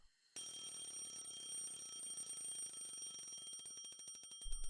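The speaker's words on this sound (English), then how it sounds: "I shut off the alarm by reflex." A bell alarm clock rings loudly and continuously for several seconds, a rattling metallic clatter that starts abruptly and ends with a thump as it is shut off.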